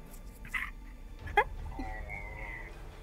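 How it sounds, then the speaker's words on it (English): A dog whimpers briefly over low background hum, with one short whine near the middle and faint noises around it. No one speaks. "Oh, there's a dog."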